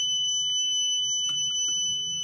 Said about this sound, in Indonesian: WeMOS akan memberikan inputan sinyal ke buzzer untuk berbunyi selama 15 detik